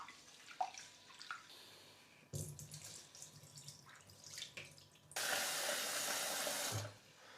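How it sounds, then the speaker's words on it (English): Rice being rinsed by hand in a bowl of water, with soft swishing and sloshing, then a loud burst of running tap water for about a second and a half before quieter splashing resumes; no talking. "Now you wash your rice, put some water in, move it around."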